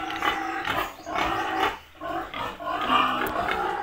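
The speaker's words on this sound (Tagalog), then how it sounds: "So papaligid tayo ng mga baboy." Pigs grunt and squeal continuously around a hot farm pen, several animals close by, loud and overlapping with no talk.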